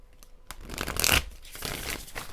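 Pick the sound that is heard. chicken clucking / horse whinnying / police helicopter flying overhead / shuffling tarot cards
shuffling tarot cards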